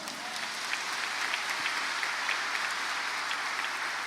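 A Catholic congregation at the Vem Louvar 2019 gathering claps in steady, sustained applause after the Gospel reading, a dense even wash of hands filling the hall without pause.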